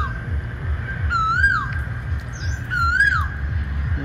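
A crow gives two drawn-out, wavering caws a couple of seconds apart over a steady low rumble, moderately near, in a forest.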